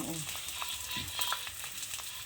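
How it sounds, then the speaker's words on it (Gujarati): Edible gum pieces fry in oil for adadiya sweets, a steady crackling, bubbling hiss with occasional stirring clinks, close by and fairly quiet. "તો જો ગુંદ તરવાનું કામકાજ ચાલુ છે"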